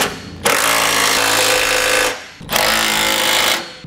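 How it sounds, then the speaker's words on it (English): A power impact tool runs in two strong bursts, about a second and a half each, driving trailer hitch bolts with an 11/16 socket during a Curt receiver install on a 2018 Cadillac XT5. The rattling whir is loud and close. "we'll come back with an 11/16 socket and snug it all up"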